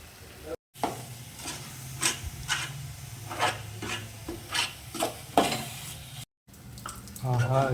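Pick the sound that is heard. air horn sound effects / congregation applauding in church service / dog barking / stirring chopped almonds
stirring chopped almonds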